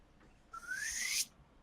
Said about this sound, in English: Is that a slide whistle?